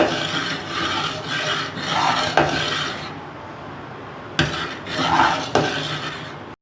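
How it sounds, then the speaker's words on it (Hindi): A spoon stirring kadhi in a pot over low heat, with gritty scraping strokes against the pot sides in bursts and a couple of sharp knocks between them. "थोड़ा सा स्पून चलाएंगे ताकि ये बैठ जाए।"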